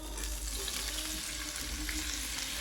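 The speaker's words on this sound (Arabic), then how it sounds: "درت زوج مغارف زيت، زوج مغارف زيت هاي سخونه. نمي طوماطيش ديالي" Tomatoes fry in hot oil with a steady, dense sizzle that stays loud and close for the whole moment, with no voices over it.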